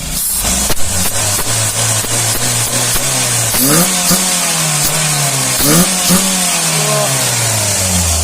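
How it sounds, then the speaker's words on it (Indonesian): A Panther car with a 2.3-litre engine is revved hard up close while the engine mount shakes. The loud idle rises into two sharp climbing revs that roar, then drop back. "Itu bangkon mesin digas-gas kayak gitu"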